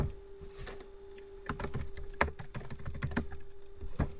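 Typing on a computer keyboard while working in MS Word 2010, quiet irregular clicks and clusters of keystrokes with short pauses between bursts, close by.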